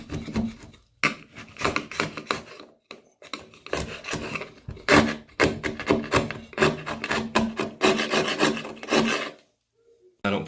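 A scraper rasping old moldy caulk off the edge of a bath, in continuous rough scratching strokes with short pauses, close and loud with no talking.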